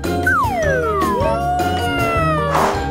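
Voice imitating a cat meowing, a single drawn-out, sliding meow delivered close up and loud.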